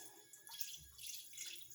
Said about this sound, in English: Rinse out your pot.